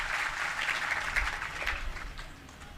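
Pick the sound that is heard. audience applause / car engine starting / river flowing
audience applause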